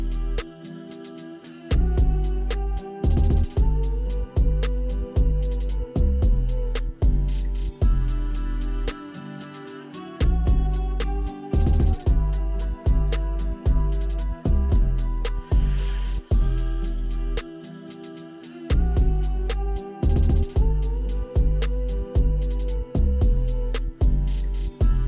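A type-beat hip-hop track built in FL Studio plays at full volume, with heavy booming bass kicks in a steady pulse under a melodic loop and crisp percussion, briefly dropping out a few times before returning.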